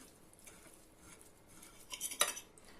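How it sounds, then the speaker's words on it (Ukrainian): A knife scrapes and clinks against a plate while breakfast food is cut, producing faint, close, intermittent scraping with a brighter clink near the end. "Я навіть ножі підготувала. Але ж, але ж все одно ріжеться, все ріжеться."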